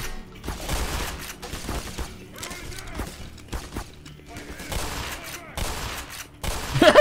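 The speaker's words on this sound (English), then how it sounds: "Good old shotgun!" Shotgun blasts in the first-person shooter game Black Mesa, several loud booming shots spread across a busy combat scene with scattered gunfire and other game noise.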